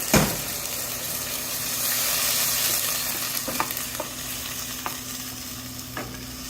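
Wine poured into a hot pan used for wild boar to deglaze it, starting with a sharp burst that settles into a steady sizzle dotted with faint taps and scrapes, nearby and unvoiced.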